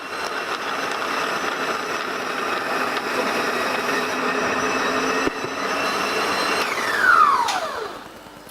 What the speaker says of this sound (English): This food processor is just a Sunbeam multi-processor